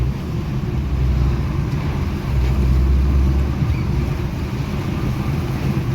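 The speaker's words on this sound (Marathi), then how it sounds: "कसा पाऊस पडतोय, खतरनाक पाऊस पडतोय, एकदम हार्डकोर पाऊस." Heavy rain drumming on a moving car, heard from inside the cabin as a steady, loud low roar mixed with road and engine rumble, with no talk.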